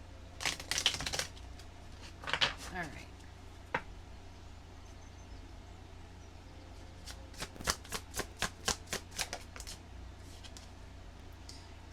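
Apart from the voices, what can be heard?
shuffling tarot cards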